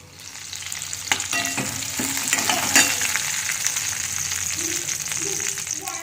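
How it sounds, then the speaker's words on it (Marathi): Continuous sizzle of brinjal frying in oil, with crackling pops, plus a few clinks and scraping stir sounds over the hiss. "वांगे थोडेसे फ्राय करून घ्यायचे तेलामध्ये"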